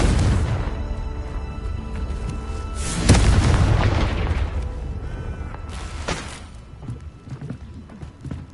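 Confringo explosive spell blast in Hogwarts Legacy, a loud booming burst about three seconds in over rumbling game background, followed by a second sharp crack and a fading low rumble.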